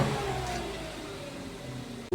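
A Toyota Wigo on a road test after repairs to injector wiring, engine note rising and falling as the car drives past nearby, fading before a short thump at the end.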